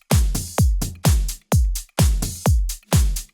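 Tech house drum loop at around 128 BPM: punchy deep kicks hitting on a steady four-on-the-floor pulse with crisp hats and claps layered between, loud and close with no voices.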